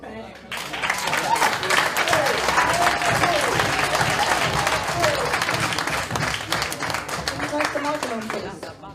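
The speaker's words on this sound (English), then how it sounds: "Can we give him another clap, please?" An audience at a talk bursts into sustained applause, dense clapping close and loud that fades out toward the end.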